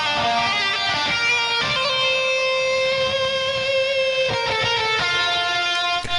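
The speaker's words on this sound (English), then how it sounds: "So we have the lead guitar here, which makes the main melody." Distorted lead electric guitar carrying the main melody of a metal cover solo, sustained singing notes with shifting pitch, loud and close, playing alone without talk.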